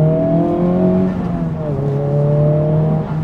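A Honda Civic Type R FL5 engine in R mode revs with a strong, clean drone, its pitch climbing, dipping briefly and climbing again, loud and close with no talking.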